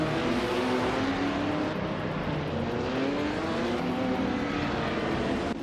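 A Porsche 917/30 Spyder race car engine drones loud and steady throughout, a continuous high roar with shifting pitch and no pauses.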